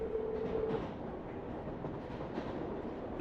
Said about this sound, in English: The train will stop for 5 minutes.